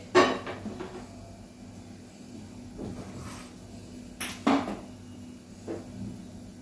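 An iron wok is set down on a lit stove, giving a few sharp metallic clanks, one near the start and a close pair later. Quieter knocks and faint background hum fill the gaps.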